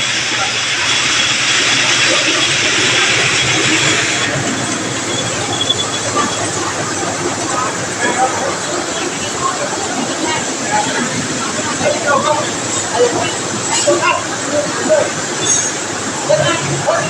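A rice milling machine for white and brown rice, installed in a village at Ban Nong Pa Mak, Huai Chot subdistrict, Watthana Nakhon district, runs with a loud, steady mechanical whir and hiss that continues for the whole stretch without pause.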